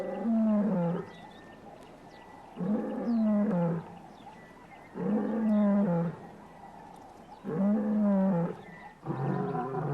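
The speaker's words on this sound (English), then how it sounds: "The full-throated thunderous roar of a male carries more than 5 miles across the savanna" Deep, powerful roars from a male lion come in four long bursts with short pauses between, loud and resonant, carrying no other sounds.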